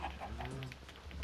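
Minecraft chickens cluck in a few short, faint calls over low background noise, with no speech over them.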